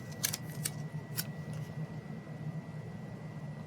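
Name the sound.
cutting paper for a reading journal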